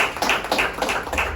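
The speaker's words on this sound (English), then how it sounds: "can y'all give them a round of applause right there?" A lecture audience claps in a brief, quick burst of applause, moderately loud with a rhythmic patter and no talking over it.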